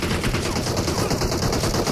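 Rapid automatic gunfire from a battle royale video game, a dense continuous burst of close, loud shots with no talk.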